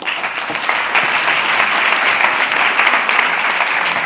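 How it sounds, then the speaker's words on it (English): Audience applause for a presenter at a project pitch event, a steady, dense wash of clapping from a full room sustained at even loudness throughout. "So please give a big applause to Xenia Riasol and her project"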